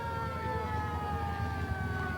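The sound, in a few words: fire engine siren in a parade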